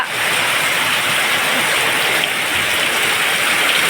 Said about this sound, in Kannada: ನನ್ನ ಎಂಗೇಜ್ಮೆಂಟ್ ಟೈಮ್ ದಿವಸವೇ ಎಷ್ಟು ಮಳೆ ಅಂತ ಹೇಳಿದರೆ ನಿಲ್ತವೆ ಇಲ್ಲ